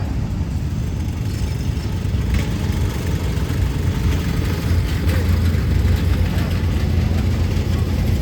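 A 1982 John Deere 212 garden tractor engine running at a vintage power parade, a steady low rumble heard from a distance under broad outdoor crowd noise.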